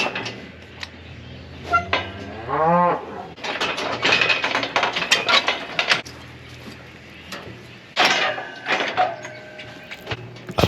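Cattle mooing during spring cattle work as cows and calves are vaccinated, one drawn-out low moo standing out amid clanking, rattling and shuffling from the working pens, fairly close.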